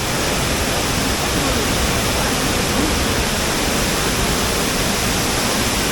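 Heavy monsoon flow pours over Savatkada waterfall in Konkan, a continuous broadband rush of water that stays even and loud from start to finish, with no pauses or distinct events.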